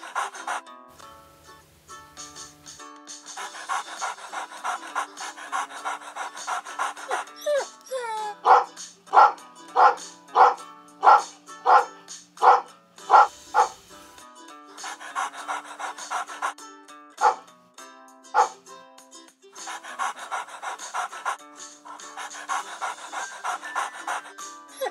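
Cartoon dog from Peppa Pig panting rhythmically, then a run of about eight loud, evenly spaced barks in the middle, with panting continuing before and after, all set over background music and some voice.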